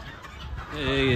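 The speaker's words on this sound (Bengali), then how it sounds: "এই যে এখানে আছে দেশি মুরগা, এগুলা এক একটা এক এক রেট।" Native desi chickens at a poultry market give a brief burst of clucking and throaty calls that rise louder at the end, with market noise in the background.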